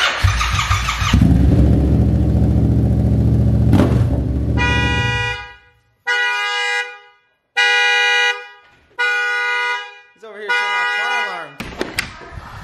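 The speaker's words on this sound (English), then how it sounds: "Why are you sending off car alarms" Car horn or alarm tones beeping in loud bursts, starting with a long blare and then sounding as four or five separate pulsed honks with gaps of silence between them.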